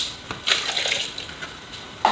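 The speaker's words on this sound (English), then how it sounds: "Add a bit of water." Water splashes and trickles into a blender in a short, steady pour, close by, with no talking.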